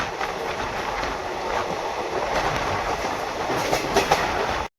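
The 11139 Mumbai CSMT Hosapete SF Express rolls along between Diva and Kalyan, heard from inside as a steady rumbling roar with rhythmic clickety-clack of wheels over rail joints.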